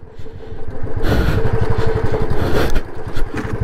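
Off-road motorcycle, a Bullet 350 or RC 390, with its engine scraping the ground: a steady close rumble with gritty scraping and clattering bursts over it, no talk.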